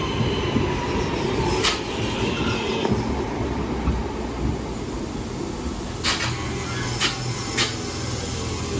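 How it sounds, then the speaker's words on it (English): A Class 323 electric train to Liverpool Lime Street pulls into the station at Newton-le-Willows with a loud, continuous rumble of wheels on rails and several sharp squeals of braking wheels. "Train now arriving is a 323 going to Liverpool."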